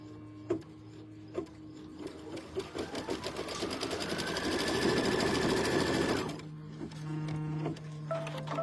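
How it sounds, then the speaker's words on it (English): Sewing machine stitching a quilt seam: a few single clicks, then a fast rhythmic needle chatter that speeds up and holds for several seconds before stopping, followed by scattered mechanical clicks and a faint hum, with no talking. "we're now going to stitch our next seam."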